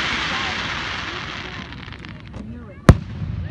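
Firework bursting outdoors at night, a single loud sharp bang after a long stretch of hissing, crackling fallout and broad noise, with distant pops scattered beforehand.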